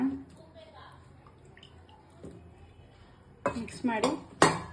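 Boiled potato mixture for aloo kabab being stirred in a bowl: quiet at first, then a few louder scraping clinks of a spoon against the dish toward the end.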